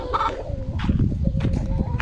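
Chickens call close by, with throaty clucks and a gobbling sound over a low, busy background.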